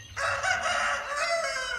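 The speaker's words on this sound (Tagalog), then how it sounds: "sa tilaok ng mga manok" Roosters crowing in the morning, a long drawn-out crow at moderate distance with overlapping calls, no other sounds competing.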